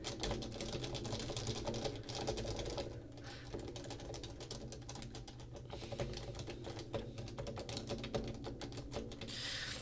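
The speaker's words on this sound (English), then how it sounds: "maybe if you type like this" Fingers type steadily on an HHKB Professional Classic keyboard, a dense, continuous run of soft clacky keystrokes at close range, with no talking over it.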